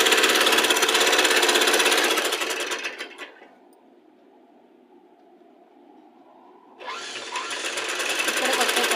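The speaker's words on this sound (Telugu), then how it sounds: "రెండింటిని ఇలా పెట్టేసి ఒక స్టిచ్ అనేది వేసుకోవాలి." Sewing machine stitching cloth, a fast rhythmic mechanical whir running for about three seconds, pausing into near silence, then starting up again loud and close.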